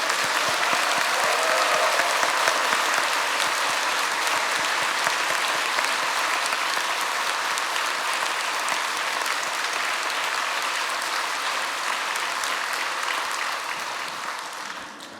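A church congregation applauds steadily at a 50th-anniversary thanksgiving service, dense sustained clapping filling the hall at full volume and tapering only slightly toward the end.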